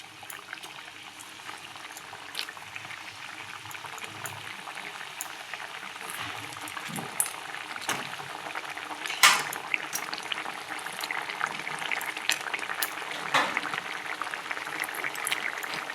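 Pea and potato pakoras simmer in gravy, giving a steady low bubbling boil with soft pops and occasional faint utensil clinks throughout.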